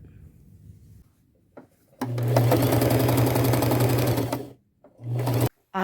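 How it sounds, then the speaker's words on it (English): A sewing machine runs a wide zigzag stitch to sew an old robe shut, a loud steady burst of rapid stitching lasting a couple of seconds, then a short second run after a pause, with quiet handling in between. "use my largest zigzag stitch and get that sewn shut"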